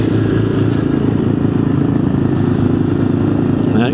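Kawasaki KLX 140 dirt bike engine running steadily up close, a loud continuous motor drone with even harmonic pulsing through the whole stretch.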